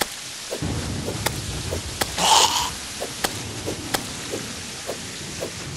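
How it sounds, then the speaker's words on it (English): Steady rain with a rumble of thunder in the video game Terraria, a constant hiss of falling rain broken by scattered soft ticks and a louder thunder swell midway. "Damn, the rain."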